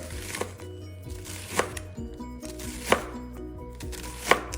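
Knife slicing through a radially cut onion on a cutting board, a few distinct chopping thuds spaced about a second apart over a low background hum.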